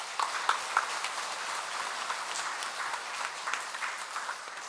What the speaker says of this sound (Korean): 여러분 박수를 한번 쳐주셔야 돼요